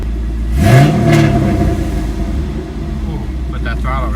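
A car engine revs up hard right after its throttle body was cleaned, a loud rising roar that peaks and settles into a steady rumbling idle-like drone, close by, with a voice talking over it.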